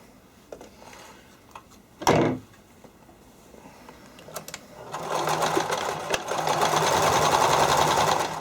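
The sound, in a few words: sewing machine stitching terry cloth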